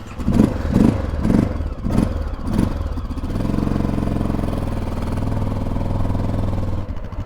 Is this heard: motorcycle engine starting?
yes